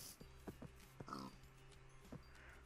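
A pig grunting in Minecraft: a few short, close oinks in quick succession, heard alone without talk.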